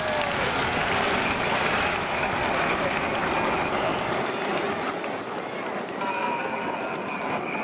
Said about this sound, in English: Big clap of cheer, please, ladies and gentlemen.